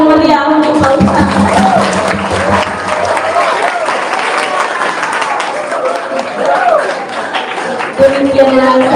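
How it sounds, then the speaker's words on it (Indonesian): Audience at a school Maulid Nabi celebration applauding the preacher, a loud, sustained burst of clapping from a hall full of people, with a voice over a loudspeaker briefly at the start and again near the end. "Tepuk tangan yang meriah untuk Pak Ustaz."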